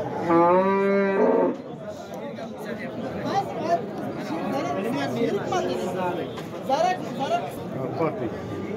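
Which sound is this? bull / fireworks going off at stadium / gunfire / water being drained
bull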